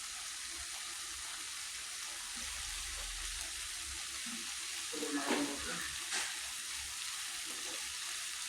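Jackfruit and beef fry in a pan, giving a continuous soft sizzle with a brief burst of stirring and scraping partway through, heard fairly close with no talk.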